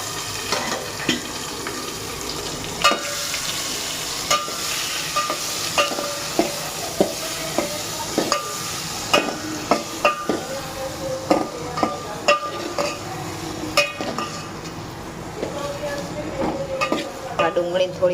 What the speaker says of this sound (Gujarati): ડુંગળી થોડી વાર સાંતળવા દઈશું આપણે એટલે સરસ ચડી જાય.